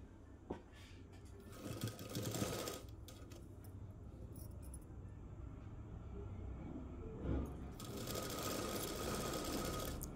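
A sewing machine runs in two loud bursts while it stitches a folded circle of fabric for an umbrella dress, with a steady hum between the bursts and a few light clicks.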